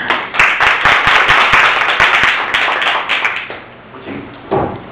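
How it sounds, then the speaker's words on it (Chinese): A lecture audience at a university talk claps to welcome a mathematics speaker, applause dense at first and then thinning to scattered claps and a few late taps. "我们掌声欢迎谢博士"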